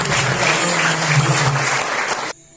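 Church congregation clapping together during worship, a loud, steady applause with a low hum beneath, ending abruptly near the close into near silence.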